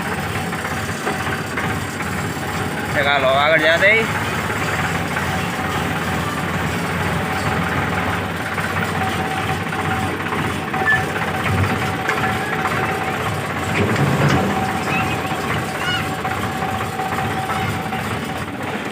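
A tractor engine idles and rumbles steadily at close range while being driven out, with a short burst of louder mechanical noise early on and a brief spoken remark over the running motor.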